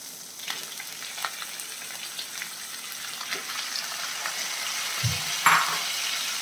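Pieces of chicken for pepper chicken frying in a hot pan on high flame, a steady soft sizzle with occasional stirring scrapes and a brief clatter near the end.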